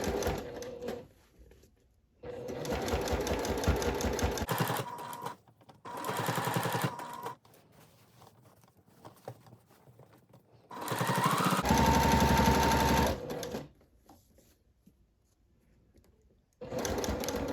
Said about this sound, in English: Now I'm going to start sewing 1/2 inch down from the top of the placket with a 1/2 inch seam allowance